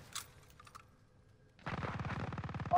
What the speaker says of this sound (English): I'm already getting shot at myself right now